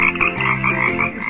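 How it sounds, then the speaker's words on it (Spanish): A toy frog chorus croaks in a dense, rhythmic run of buzzy, pulsing calls, close and loud, filling the short stretch without any talk. "¡Oh, mira! ¡Hay cinco ranas!"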